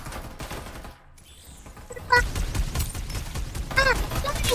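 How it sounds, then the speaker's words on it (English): Rapid automatic gunfire bursts in the online shooter Farlight 84, dense and loud with layered shots, a brief lull, then renewed sustained firing, with a voice talking over it. "Someone's shooting me!"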